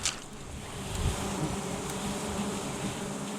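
Bees swarming at a wild hive during honey harvesting make a loud, continuous, close buzzing drone that fills the scene, with no voices.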